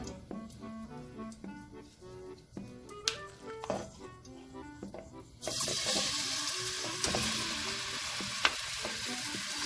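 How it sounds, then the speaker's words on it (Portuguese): Beef goes into a very hot pan: a few utensil clinks and light taps give way to a sudden, loud, continuous sizzle of frying that carries on steadily to the end. "com a panela bem quente, eu vou colocar minha carne para ela fritar"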